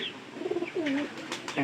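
Pigeons kept on a farm coo softly with low, rolling calls, fairly close, alongside faint rustling and a few higher chirps.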